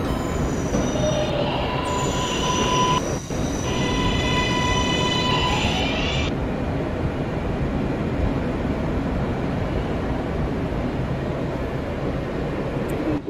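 A subway train rides through New York near 53rd Street, its wheels squealing in loud sustained high-pitched tones for several seconds over a constant rumbling roar, then the squeal fades and the rumble continues.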